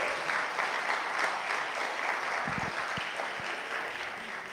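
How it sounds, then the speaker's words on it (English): Indoor audience applause at an evening Black History Month community gathering, a steady wash of clapping that holds for several seconds, with a few louder thumps near the middle. "Can we give a round of applause"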